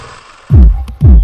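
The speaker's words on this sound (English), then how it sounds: "You hear how the motor sounds?" A lawn product sprayer's motor gives two loud, close, low throbbing pulses about half a second apart, each a heavy whooshing surge that fades before the next.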